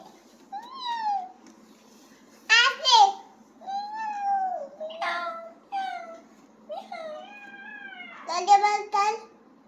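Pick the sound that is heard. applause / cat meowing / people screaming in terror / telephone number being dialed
cat meowing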